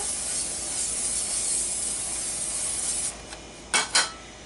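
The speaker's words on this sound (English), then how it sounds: "I'm going to spray that with the butter spray" A steady hiss of butter-flavored cooking spray onto a pan for about three seconds, followed by two quick, sharp bursts of spray, close by with no talking.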